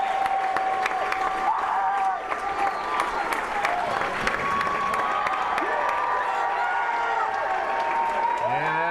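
Loud Pulaski crowd at a high school wrestling individual sectional, steady applause and cheering with whistles and shouts, sustained and close throughout.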